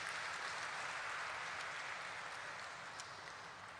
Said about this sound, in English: Let's have a huge round of applause for him, please.